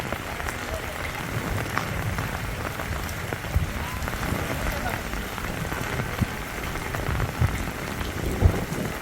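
Heavy monsoon rain in Gujarat pours down as a thick, continuous roar of drops hitting surfaces. It stays loud and steady throughout, with a few louder splashes now and then.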